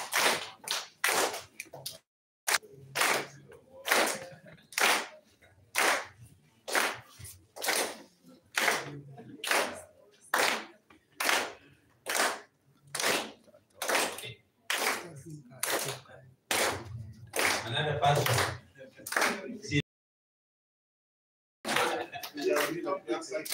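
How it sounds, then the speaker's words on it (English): A group of people clap hands together in steady, evenly spaced bursts, loud and close, with a brief silent gap near the end before the clapping resumes; a voice speaks over it. "Let's keep clapping."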